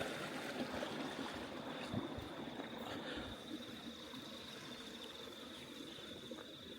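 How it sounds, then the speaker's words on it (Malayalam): Stream water running down from a waterfall near a lodge outside Auckland, a steady, moderately distant rushing flow with a faint high insect whine above it. "ഇതായിരിക്കും വെള്ളം പോകുന്നത് വാട്ടർഫാളിന്റെ"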